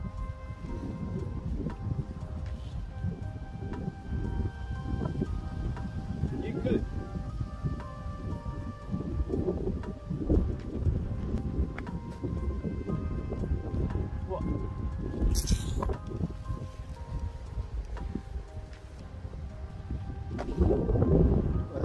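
Steady, heavy wind roars and buffets the microphone throughout, with a low rumbling gusting that swells louder near the end.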